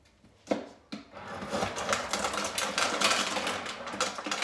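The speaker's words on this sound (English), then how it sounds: "sometimes my ice machine don't want to stop" An ice machine dispenses ice into a jar: two sharp clicks, then a steady, close rattling clatter of falling ice that keeps going.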